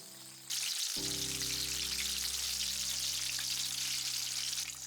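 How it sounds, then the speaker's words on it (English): Eggplant pieces deep frying in hot oil for agedashi give a loud, steady sizzle that starts abruptly and runs unbroken under soft background music. "I deep fry them until the eggplants become crispy and browned"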